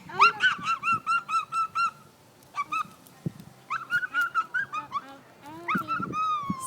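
A pet turkey gobbles in rapid, bubbly bursts close to the listener, several quick runs of warbling calls separated by short pauses, with faint background noise between the bursts.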